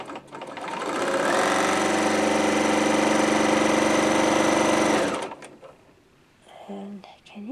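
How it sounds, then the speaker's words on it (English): A Bernina L850 serger running a rolled hem, a steady fast mechanical whir that is loud and close for about four seconds before stopping, followed by faint handling noises and brief quiet speech. "I'm going to pull this up, grab a little fabric, right side up, put my presser foot down, and off we go to the races."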